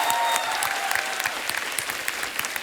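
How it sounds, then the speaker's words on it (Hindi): Loud studio audience applause on a comedy talk show, a thick roar of clapping with crisp individual claps standing out, a faint tone fading early, continuing steadily for nearly three seconds. "जोरदार तालियां यार"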